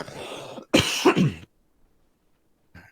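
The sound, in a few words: cough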